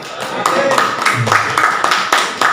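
Audience clapping at a smallholder planters' training session in Indonesia, a run of sharp claps at a steady rhythm heard over a voice as he keeps talking.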